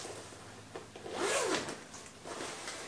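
A zipper on a green-lined puffer vest with front buttons is pulled in one close, rasping stroke that rises and fades, followed by soft fabric rustling.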